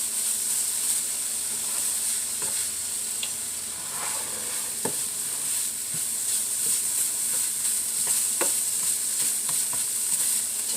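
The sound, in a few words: stirring sizzling sauce in pan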